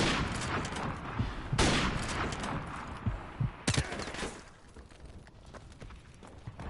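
Sniper rifle shots crack in Modern Warfare Remastered, a few sharp reports spaced unevenly among smaller gunfire and clatter from the match, fading to quieter background noise near the end.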